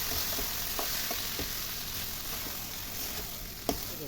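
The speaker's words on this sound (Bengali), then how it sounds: "এবার আমি চাল আর ডালটা যেটা ভেজে রেখেছি সেটা দিয়ে দেবো এর ভেতরে" Rice and dal, fried beforehand, stirred into sizzling masala for bhuna khichuri in a pan; a steady, close hiss of frying runs throughout, with faint spoon scrapes and a sharper clack near the end.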